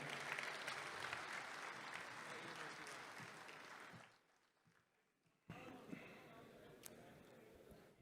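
Loud, sustained audience applause at a mushaira in Dubai welcoming poet Qaisar Wajdi, thinning and dropping away briefly before a fresh burst of clapping resumes near the end.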